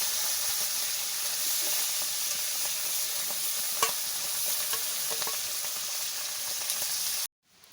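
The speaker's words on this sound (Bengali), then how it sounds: "জিরা ধুনা ভাজি নিচ্ছি" Cumin and coriander fry in hot oil in a pan, giving a steady close sizzle with faint stirring scrapes that runs evenly until it cuts off abruptly near the end.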